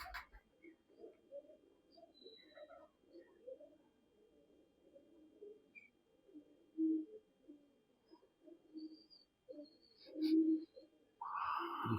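An old pet pigeon, more than five years old, gives soft low throaty coos in a quiet room, faint and repeated over twelve seconds, with a brief rustle near the end.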